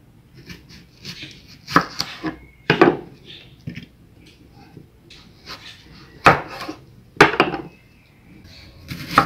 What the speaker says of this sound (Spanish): Ahora voy a picar la cebolla.